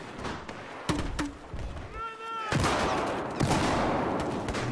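An XM25 airburst launcher fires in Battlefield 4 amid a fusillade of sharp shots and thuds, bursts spread across the moment with a brief tonal sound in the middle, while someone talks over it.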